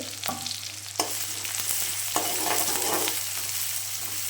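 Onions drop into hot oil in a pan for a green gram stir-fry, giving a steady close sizzle with a few sharp stirring scrapes and crackles.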